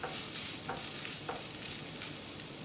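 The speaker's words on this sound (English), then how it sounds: "we're continuing with just sauteing this ground and crumbled pork in the pan" Ground, crumbled pork browning in a pan, a dense continuous sizzle with a few soft scrapes of stirring, close and steady without speech.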